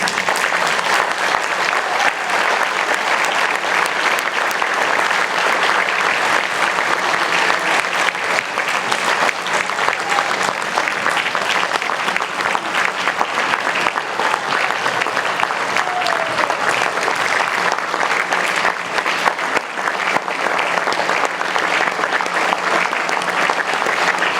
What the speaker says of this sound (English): Let's have a round of applause for this.